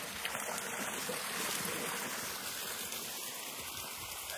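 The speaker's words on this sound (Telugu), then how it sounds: "చిన్న చిన్న వాటర్ ఫాల్స్ చుట్టూ కొండలు." Small waterfalls tumble among hills on the Harishchandragad trek in Maharashtra's Malshej Ghat region, a steady broadband rush of flowing water that fills the whole stretch with no voices.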